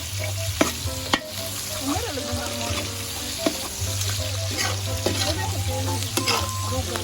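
A spoon stirs and mixes food frying in a pan for a celebration meal, with a steady sizzle running throughout, scraping strokes, and a few sharp knocks against the pan's edge.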